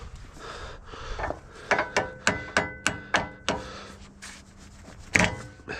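A series of sharp, evenly spaced hammer strikes, about eight in a row, ringing close and loud, followed by a pause and one more heavy blow.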